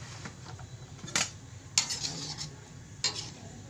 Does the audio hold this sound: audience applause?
no